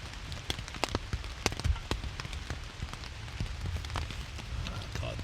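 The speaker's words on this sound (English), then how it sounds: "record sounds of the rain hitting the tent" Rain drums on a tent during a wet wild camp in the woods. Irregular close drops tap and pop loudly against the fabric over a low, steady patter.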